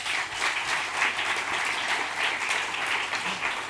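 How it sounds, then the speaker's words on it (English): Steady applause from a crowd, dense clapping that holds at an even level for a few seconds with no voices over it. "Can I get a round of applause?"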